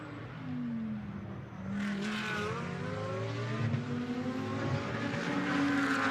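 An Audi GT2 race car at Algarve climbs the hill on track, its engine roaring and rising in pitch through the gears, with other cars audible close behind.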